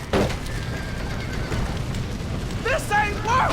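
Horses neigh and whinny in Red Dead Redemption during a fire rescue, with shrill calls rising near the end over a steady rumble of background noise.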